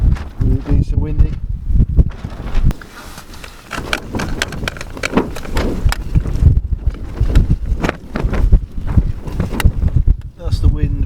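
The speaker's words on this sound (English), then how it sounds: "That's the wind blowing the camera over." Strong gusts of wind buffet a tent at a wild campsite in high winds at Winnats Pass in the Peak District, UK, roaring and flapping in loud, uneven surges close to the microphone, with rustling throughout and a person talking over it.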